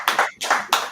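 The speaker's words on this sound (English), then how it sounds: "But clap it up, you're up on the time." Audience clapping at an event about Windrush scandal and immigration stories, three short bursts of claps close together, fairly loud and with no talk over them.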